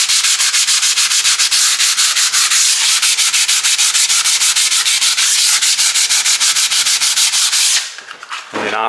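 Drywall being sanded smooth over Easy Sand joint compound during a house renovation, a steady, close, loud rasping scrape with rapid back-and-forth strokes that stops abruptly near the end, with no talking.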